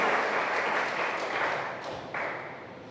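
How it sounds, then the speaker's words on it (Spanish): A church congregation breaks into loud, sustained applause, a dense wash of many hands clapping together that swells and surges for a few seconds without pause. "Dale un fuerte aplauso al Señor"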